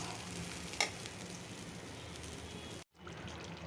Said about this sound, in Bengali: পোলাও চালটা কড়াইতে ভাজলাম